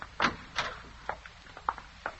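A door opens as a sound effect in an old radio suspense drama: a quick run of close clunks, clicks and creaks, the first two loudest, then softer rattles trailing off.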